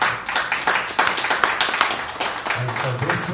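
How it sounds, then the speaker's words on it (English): A meeting audience gives a round of applause: close, uneven clapping from a modest crowd, with individual claps standing out and some voices murmuring underneath toward the end. "Give them a round of applause."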